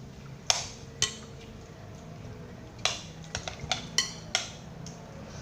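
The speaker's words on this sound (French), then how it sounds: "tout de suite, je le mets dans mon bol. Et nous allons mélanger le tout." Chopped parsley and other ingredients are mixed in a bowl, with a handful of sharp, close clinks of a utensil striking the bowl at irregular intervals, separated by quieter stirring, and no voices.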